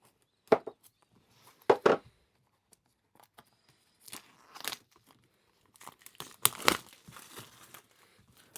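A flip-lid product box for a Nocpix LUMI L19 being opened, with close bursts of crinkling and tearing packaging separated by quiet pauses.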